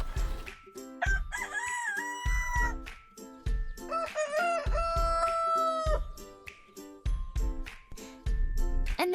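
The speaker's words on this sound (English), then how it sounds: "Roosters are like the farm's alarm clock. They crow every morning to wake everyone up and start the day." A farm rooster crows loudly and close in several drawn-out calls, interspersed with short bursts of hen clucking and a faint jingling sound.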